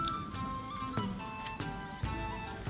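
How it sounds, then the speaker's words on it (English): Horse in the Manor Lords medieval village game, heard as repeated clip-clop hoof steps at a regular pace against a busy ambient bed, with a faint whinny-like tone, moderately near and fairly quiet. "Let's get a horse for the trade post."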